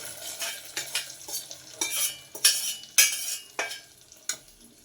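Fried dry fruits being stirred into grated carrot halwa, with a string of close scraping and clinking spoon strokes against the pan in an uneven rhythm, over a faint sizzle, with no voices.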